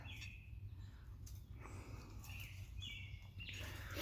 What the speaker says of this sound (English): Picky birds.